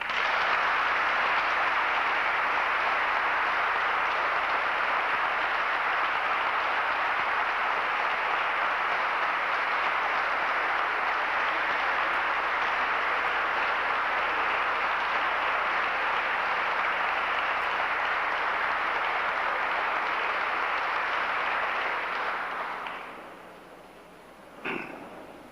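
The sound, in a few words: audience applauding to welcome a speaker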